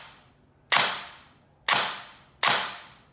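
T238 gel blaster fitted with a mosfet and hair-trigger mod, fired in three separate loud, sharp bursts spaced about a second apart, each snapping hard and ringing briefly as it fades.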